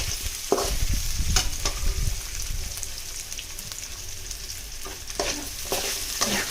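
Potato pieces frying in a pan for sabudana khichdi, a continuous hiss of hot oil broken by several sharp scrapes and clatters of a spoon stirring.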